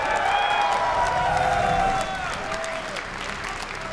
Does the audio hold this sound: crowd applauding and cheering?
yes